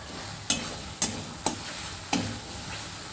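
Masala frying in a pan with salt, stirred firmly for a fish dish with black cumin: a soft background sizzle broken by four sharp spoon scrapes at roughly half-second intervals.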